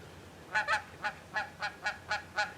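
Geese returning in early spring honk outdoors, about nine loud nasal calls in an irregular series, some in quick pairs, fairly close over a quiet background.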